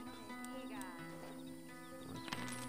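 Horse sounds in the Red Dead Redemption video game: faint neighs and whinnies with some hoof clopping, mixed with tonal game audio and a louder burst near the end.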